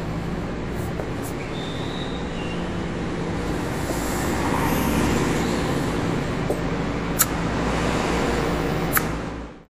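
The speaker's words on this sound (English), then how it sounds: "The fact that it added cars passing by in the video is impressive" Continuous low traffic rumble of cars passing by on a road, steady and moderately loud with a slight swell midway and a few faint clicks, no talk.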